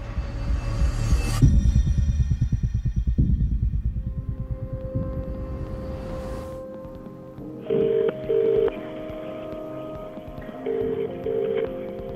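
A telephone rings in repeated double bursts with short gaps, fairly clear and alone, after a stretch of low rumbling music-like sound, tied to a 999 emergency call to Blackpool Police.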